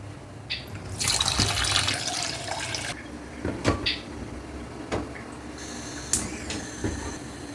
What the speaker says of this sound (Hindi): अब इसी में हम जो पानी और पत्ती जो है वो डाल देंगे।